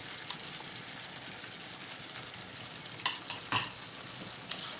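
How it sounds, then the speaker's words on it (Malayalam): Mutton chops masala with curd being stirred in a pan, a soft continuous sizzle with a few short scraping clicks of the spoon near the end, fairly quiet. "ഒന്നും കൂടി മിക്സാക്കി കൊടുക്കുക."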